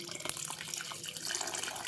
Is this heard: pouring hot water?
yes